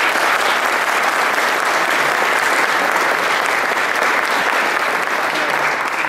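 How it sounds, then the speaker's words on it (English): A crowd applauds at a congressional campaign launch, a dense, steady roar of clapping that fills the room without break from start to finish, loud and close. "Please give her a round of applause."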